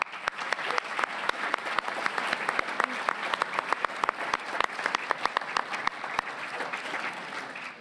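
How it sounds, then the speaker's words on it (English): A gala audience applauds its sponsors with dense, continuous clapping, and distinct sharp nearby claps stand out above the wash throughout. "Let's give them a round of applause."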